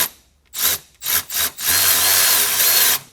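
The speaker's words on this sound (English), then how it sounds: "So we got our Milwaukee 1/4-inch ratchet brushless. So we're going to take out these 4 10mm here" A Milwaukee 1/4-inch brushless cordless ratchet backs out 10mm bolts in a car's shifter console, running in several short whirring bursts before one longer sustained run, loud and close with no talk.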